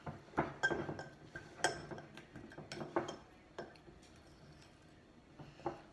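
Charcoal toothpaste ingredients mixed in a glass, with faint, close clinks and taps of a utensil against the glass at irregular intervals, interspersed with soft, squishy stirring.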